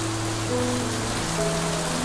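Steady rain falls as a dense, even hiss of drops on surfaces, continuous and fairly loud throughout with a faint low hum beneath and no voices.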